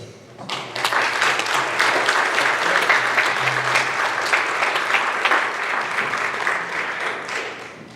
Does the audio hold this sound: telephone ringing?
no